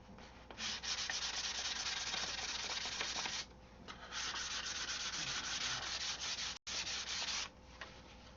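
Sandpaper worked over a model airplane in long, steady rasping strokes, with brief pauses between passes and one short sharp break, close and fairly quiet with no talking.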